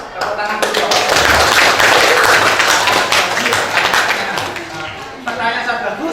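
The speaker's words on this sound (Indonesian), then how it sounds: "Tepuk tangan dulu." Classroom of students clapping together in a loud, steady burst of applause lasting several seconds, with a brief dip before the clapping resumes near the end.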